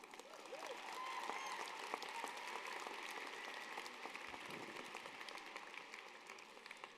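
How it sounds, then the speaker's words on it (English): Graduation audience at a 2024 high school commencement ceremony in an arena breaks into steady applause, a dense wash of many clapping hands that stays fairly even for the whole stretch, heard from some distance. "yeah, go ahead and clap"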